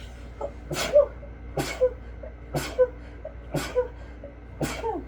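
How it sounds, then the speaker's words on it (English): Five sharp sneezes from a person in a row, spaced about a second apart, each a sudden breathy burst close to the microphone over a faint steady hum. "oh my gosh, I'm going to sneeze"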